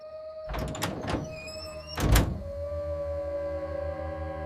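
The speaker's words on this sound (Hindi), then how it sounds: "दरवाजा खुला" A truck door opens on a foggy highway at night with a couple of heavy thunks and clatter over a sustained eerie drone, followed by a lingering hum.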